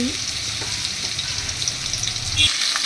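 Ginger, cumin, chili and coriander paste with spices frying among potatoes in hot oil, a dense steady sizzle close up that drops off abruptly near the end, no talking.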